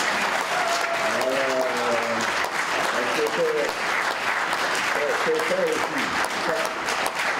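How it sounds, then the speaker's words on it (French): A conference audience at the closing of the 2015 Bamako Forum gives steady, sustained applause that fills the room evenly throughout, with a voice speaking faintly over it. "Et je vous prie vraiment de l'applaudir."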